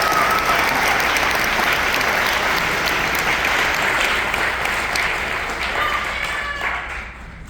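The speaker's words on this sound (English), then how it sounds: "let's give a round of applause for our students" An audience applauds honor band students after a school concert, a loud, dense wash of clapping that carries on steadily and slowly fades toward the end.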